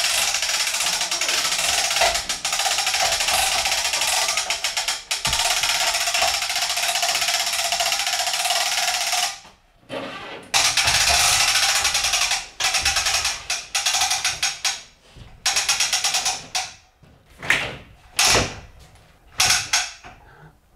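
A professional plasterboard lift with a homemade extension cranks a sheet up toward a ceiling in a chateau renovation, giving long stretches of loud, close mechanical grinding and creaking, then shorter bursts broken by brief pauses.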